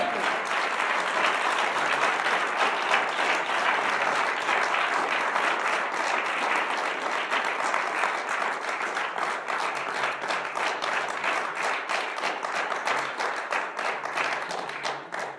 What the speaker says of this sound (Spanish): ¿cómo no le puede dar un fuerte aplauso al Rey que vive?